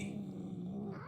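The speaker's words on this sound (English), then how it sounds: "I hear you doing a meow." Cat meowing in the Murdered: Soul Suspect video game, one drawn-out, fairly faint tonal meow over quiet background ambience, alone with no talk.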